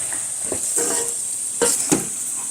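French fries crackle and sizzle in hot oil in a home kitchen, a steady close hiss broken by a few sharp clinks and scrapes of a fork stirring the pan.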